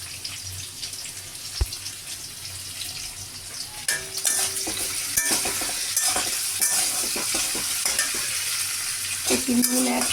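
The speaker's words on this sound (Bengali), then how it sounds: "কাঁঠাল বীজ, আলু, কালো জিরে ভেজে নিচ্ছি শুকনো লঙ্কার সাথে" Jackfruit seeds, potatoes and black cumin frying with dried red chillies in a pan, a continuous sizzle broken by scraping stirs and clinks, fairly close with no talk.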